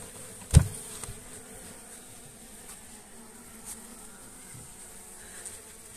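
Honeybees buzz steadily around hive frames, a soft, continuous drone of many insects close by, broken by one brief knock near the start.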